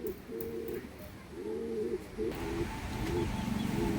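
Pigeons coo in repeated low, throaty phrases, close by, with faint background noise between the calls; a pair of young Andhra pigeons.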